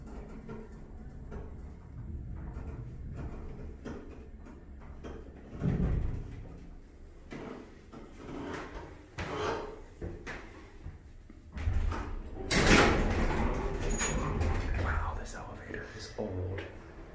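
Vintage elevator doors, either Montgomery or Westinghouse, slide open and shut with a rumbling thud near the middle and a longer, louder rolling slide later. A person talks quietly between the door movements.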